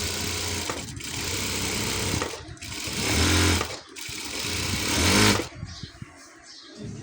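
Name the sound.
sewing machine stitching a saree hem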